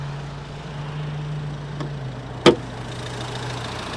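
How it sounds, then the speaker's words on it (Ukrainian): A Volvo V50 with a 1.6 diesel engine idles quietly and evenly with a low, steady hum. A single sharp click cuts in briefly midway, and no one speaks. "Отакий дизельний двигун, антифриз все добре, працює рівненько, тихенько"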